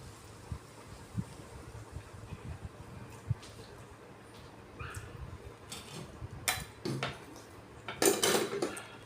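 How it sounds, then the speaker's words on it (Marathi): Wheat flour dough mixture being mixed in a metal bowl just after hot oil is poured in, quiet scraping and scattered clinks of a spoon against the vessel, growing louder toward the end, no talk. "तर हे तेल टाकल्यानंतर मस्तपैकी मिक्स करून घ्यायचं"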